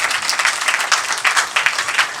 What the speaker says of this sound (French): On applaudit pour s'il vous plaît